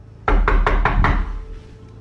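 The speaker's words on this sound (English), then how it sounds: "Then there's a clear knocking sound coming from the back door." Five sharp, evenly spaced knocks on the back door of a house, loud and close, with nothing else heard.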